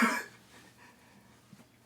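A single sharp cough up close, followed by quiet room noise.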